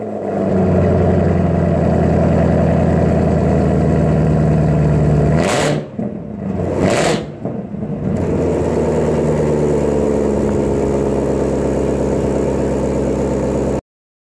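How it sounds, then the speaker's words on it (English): 2017 Chevrolet Camaro ZL1 engine settling into a deep, steady idle after start-up, briefly interrupted by a couple of sharp revs midway before returning to a loud, even rumble until it cuts off. "cranking it up every morning. I love it. It never gets old."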